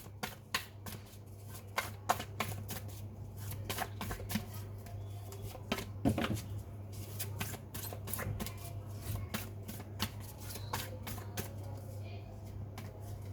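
Tarot cards shuffled and drawn by hand, a quiet, close series of rapid riffling clicks and slaps over a steady low hum, with soft talk in between.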